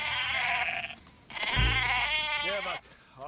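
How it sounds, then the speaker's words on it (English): Goat bleats played from a cassette tape on a Walkman speaker in Metal Gear Solid V, several loud wavering bleats in quick succession with a short thump partway through. "play some goat bleats and they think you're a goat"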